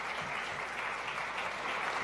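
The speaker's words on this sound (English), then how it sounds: "please give a round of applause for him as well again" Lecture audience clapping for a guest speaker, a dense, even round of applause at steady volume for the whole stretch.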